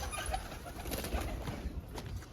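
Pigeons coo softly and repeatedly nearby in their coops over a low background hum.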